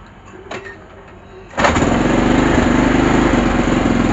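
A Kymco Super 8 scooter engine coughs once, then catches and settles into a steady, loud buzzing idle close by after a new CDI is fitted.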